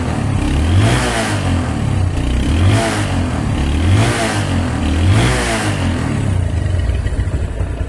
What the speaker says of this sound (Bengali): বাইকটার যে অরিজিনাল সাউন্ড ঠিক ঠিক সেটাই আছে